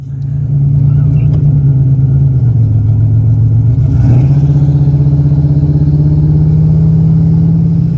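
A loud 1987 Buick Turbo T (Grand National) engine drones close by at a low, steady pitch, dipping briefly mid-way before settling back into a constant roar.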